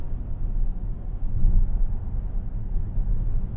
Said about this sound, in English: just listen how quiet this is. Even over those expansion joints